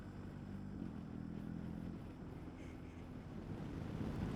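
Outdoor wind buffets a DJI wireless microphone, a low, steady rumbling rush that swells slightly toward the end, with no talking.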